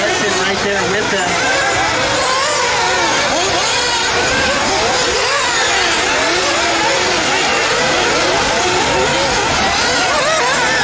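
Nitro RC buggies in a spec-tire B main race in Idaho scream around the track with high, buzzing engines that rise and fall constantly, loud and layered, under an announcer's commentary.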